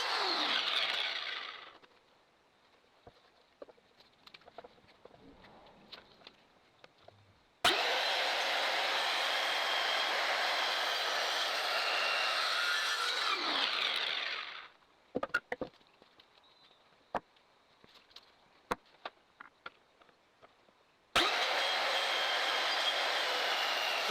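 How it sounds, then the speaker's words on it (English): A rotary saw cuts into a rotting wooden deck post in three long, loud roaring passes, separated by quieter stretches of scattered knocks and handling noise. "So with the rotary saw, cut the post on all four sides."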